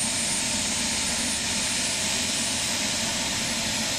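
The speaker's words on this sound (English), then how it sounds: "Is the motor spooling up? The blade's trying to spin" A BK 117 medevac helicopter spools up at a general hospital, its engine whine rising as the blades begin to turn, a loud steady broadband roar close by that fills the whole stretch.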